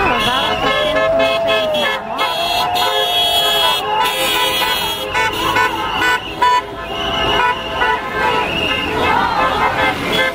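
An Automaidan car convoy gathered at a traffic light in London honks repeatedly, with overlapping car horns over busy traffic and passing buses, and someone speaks in between.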